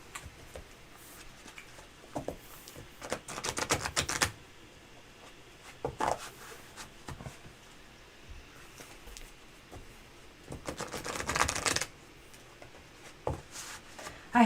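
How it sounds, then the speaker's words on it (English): Tarot cards being shuffled at a table in two quiet bursts of rapid riffling and tapping, with soft clicks and handling noises between them and no talk. "I'll shuffle again."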